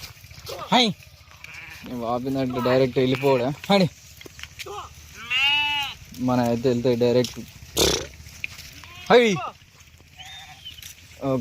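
Sheep bleat repeatedly, near and loud, as a flock is herded home in a village, with someone talking between and over the calls.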